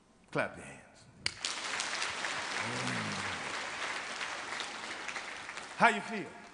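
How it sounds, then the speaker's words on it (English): A spiritual workshop audience claps together after a breathing chant, a dense sustained round of applause lasting several seconds, with a voice before and cheering voices after. "Clap your hands."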